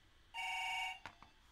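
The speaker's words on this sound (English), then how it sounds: "And the office phone's ringing." An office phone rings inside a video game, a single steady electronic ring lasting about half a second at moderate level, followed by a couple of faint clicks in a quiet scene.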